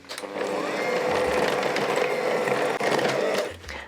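Wet batter for mince pie cupcakes is stirred into a bowl of dry mix, giving a steady close scraping and sloshing that runs continuously for a few seconds, with no talk.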